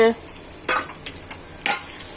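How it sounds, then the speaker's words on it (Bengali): Ginger, garlic and onion paste going into a pan of frying beef chilli with fried chillies, giving a faint sizzle broken by a few soft spoon scrapes and clinks against the pan. "এখানে যে বাটা মশলা আছে এটা অ্যাড করে দিচ্ছি আদা রসুন পেঁয়াজ"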